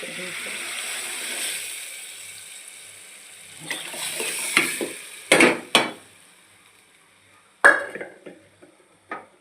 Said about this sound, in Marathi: थोडंसं हलवून घ्यायचं आता आपली डाळ शिजवून घेतलेली आहे